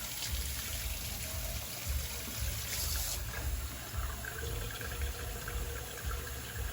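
Water draining from a kitchen sink after the plug is pulled during dishwashing, a steady close gurgling rush with a low rumbling churn throughout, continuous and alone without talk.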